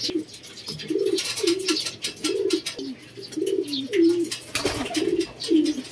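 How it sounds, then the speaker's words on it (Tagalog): Pigeons cooing in a steady run of soft, repeated low calls, close by, over a faint background hiss with a brief rustle near the end; no talking. "Yan mga kalapatids."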